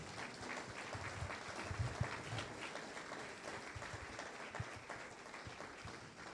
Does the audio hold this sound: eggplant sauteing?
no